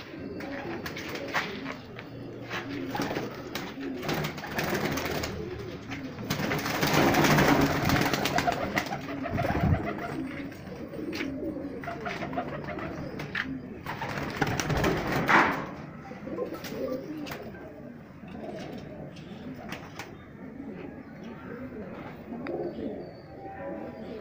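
High-flyer pigeons, including golden and teddy birds in Rajsamand, Rajasthan, coo steadily and close for a long stretch, with wing flutters and rustling.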